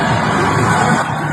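A large outdoor crowd in Brazzaville roars and cheers as Sassou greets them, a loud continuous wash of voices and shouts throughout the brief moment.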